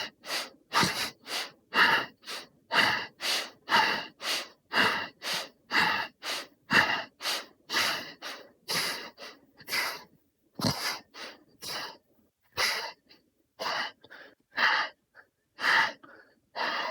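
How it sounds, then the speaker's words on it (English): Bhastrika yoga breathing in a Hatha yoga session: forceful in-and-out breaths through the nose in a fast, even rhythm, about two per second, close and loud, with a few brief pauses and no talking. "we're breathing in and out forcefully through the nose"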